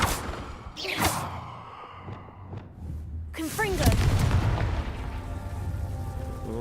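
In Hogwarts Legacy, a Confringo blasting spell goes off, giving a sharp burst and a rumbling boom over steady game background sound, with a voice speaking around it.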